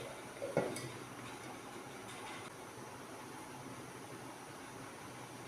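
A lid is set down on a pot of simmering seer fish (neymeen) curry, giving a single short metallic clink near the start, followed by a steady low hiss from the stove.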